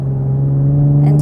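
A 2020 Chevrolet Camaro V6 with 355 horsepower and paddle shifters gives a loud, steady engine drone that swells slightly at the very end, as on a downshift.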